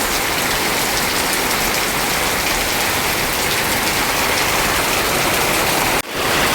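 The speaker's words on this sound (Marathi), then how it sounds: "खूपच पाऊस वरून डोंगराचं पाणी धो धो करून इथे नदीसारखं वाहत आहे आमच्या घराच्या बाजूला." Heavy monsoon rain pours down as mountain runoff rushes like a river beside a house, a loud unbroken roar of rainfall and flowing water that dips for a moment near the end.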